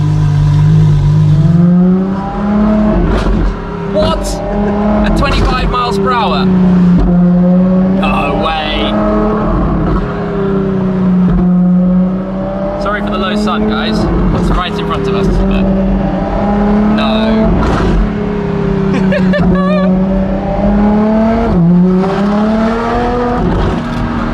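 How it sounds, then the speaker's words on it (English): A Ferrari LaFerrari engine rumbles loudly and continuously, its pitch swelling and dipping with light revs, while people talk over it. "This is just idle noise."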